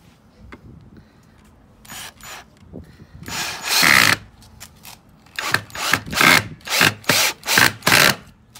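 A power drill whirs in repeated short bursts as screws are driven into pre-drilled holes in wood, each burst rising and stopping, with brief pauses between.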